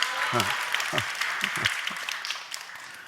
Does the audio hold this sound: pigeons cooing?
no